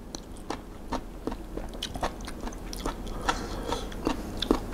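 Crunchy bites and chewing of Hong Kong kale with vegetarian suki, close to the mouth, with repeated sharp crisp crunches in a steady rhythm and no talking.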